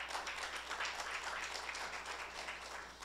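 A church congregation gives a brief burst of steady applause, heard softly and somewhat distant throughout.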